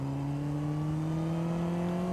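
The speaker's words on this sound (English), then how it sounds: "The RPMs climb every time you shift down into a lower gear" A Honda CBR600rr motorcycle engine drones steadily and loud, its pitch creeping upward as the revs climb after a downshift, heard close without any talk.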